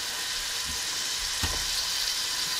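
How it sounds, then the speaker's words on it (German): Garlic and vegetables fry in oil in a pot, giving a steady, soft sizzle that crackles throughout, with a faint stir or clatter partway and no speech. "Einmal anrösten lassen und dann die Knoblauch."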